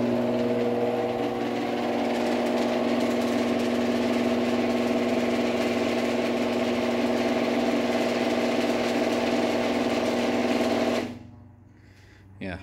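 A Genie GX9000 garage door opener runs along its rail with a steady, close motor hum and drive rumble, then cuts off near the end, leaving near silence.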